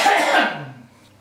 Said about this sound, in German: eine Hustepause.